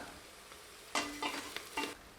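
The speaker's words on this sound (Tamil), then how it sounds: "இந்த பச்சை மிளகாவை நல்லா வதக்கி விட்டுக்கலாம்." Quiet pan sizzling with a few short stirring scrapes, green chillies being sautéed close by, no talking.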